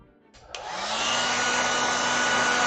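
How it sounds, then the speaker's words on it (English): A hair dryer, used while varnishing or applying gesso to an acrylic painting, switches on after a brief quiet moment and ramps up to a loud, steady whooshing roar that continues alone. "I apologize in advance if it's noisy because I will be using a lot of hairdryer"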